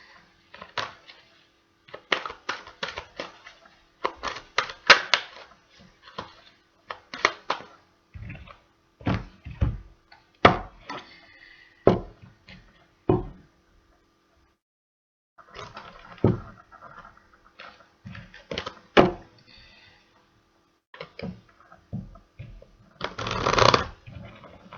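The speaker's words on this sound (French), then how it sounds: "Je continue de battre mes cartes." A deck of oracle cards gets shuffled by hand, close and crisp, in repeated riffling bursts and soft slaps separated by short pauses, with a louder flurry at the end.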